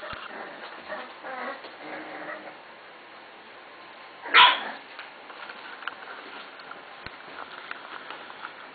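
A bulldog puppy about six and a half weeks old gives a single sharp yelp or bark near the middle, with faint soft whimpering and rustling around it indoors near a heater.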